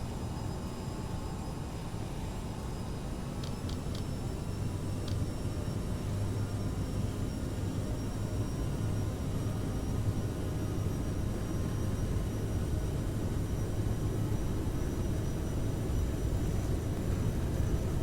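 Aerosoft CRJ 900 regional jet on its takeoff roll in Microsoft Flight Simulator 2020, a steady, loud engine roar with low rumble that holds evenly throughout, with no talking.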